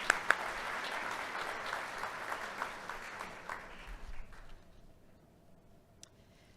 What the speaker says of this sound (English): So a round of applause for all of you for all the work that you do.